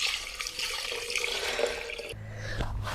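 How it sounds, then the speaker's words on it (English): Cordial poured through a vegetable bag lining a pan, a steady splashing liquid stream that cuts to a lower, heavier gurgle near the end, close and alone with no talk. "And then I'm going to pour this into here."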